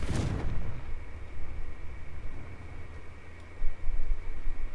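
A Confringo blasting spell goes off in Hogwarts Legacy with one sharp burst right at the start, then a low rumbling game ambience continues with no speech.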